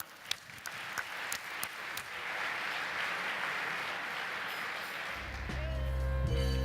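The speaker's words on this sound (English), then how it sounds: "Let's have a round of applause for them." Audience applause at a MACNA 2017 Saturday banquet, greeting the 2018 MACNA crew: a steady wash of clapping through most of the stretch, fairly faint and roomy, with a low tonal hum or music rising near the end.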